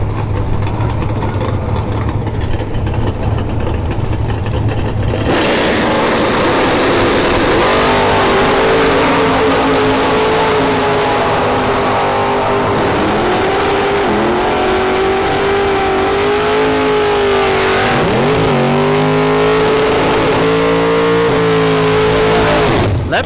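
Drag racing cars at a sportsman finals launch and accelerate down the strip, engines roaring loud with rising revs, gear-change dips and a sustained high drone as they pass.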